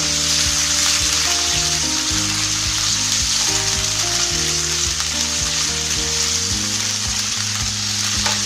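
Boneless chicken sizzles and crackles steadily in a hot pan, loud and close, with a low tonal hum underneath and no talking.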